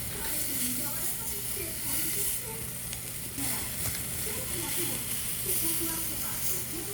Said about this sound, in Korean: 스테이크는 판 위에서 지글지글 구워주고 있었고